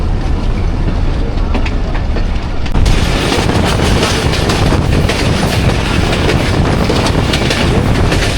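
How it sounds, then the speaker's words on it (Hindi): Chenab Express, hauled by a GMCU 15 locomotive, roars past very close and loud, with a sudden surge of wind and rattling wagons followed by continuous clickety-clack of wheels over rail joints. "आई थिंक ये चनाब एक्सप्रेस है, अल मारूफ मागा एक्सप्रेस, GMCU 15।"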